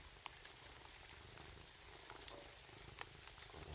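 A stray cat purrs softly and steadily on a rainy day, the low continuous rumble faint and blended with a constant hiss of falling rain and scattered drip ticks, with no talking.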